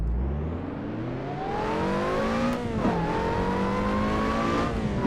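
A car engine in the Assetto Corsa racing game revs up through the gears with a manual gearbox, its pitch climbing steadily, dropping briefly at a shift, then rising again in a close, continuous whine.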